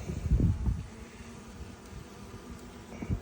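A newly installed package of honeybees hums in a soft, continuous buzz close by during a hive inspection, with a few brief thumps and rustles of handling near the start and end.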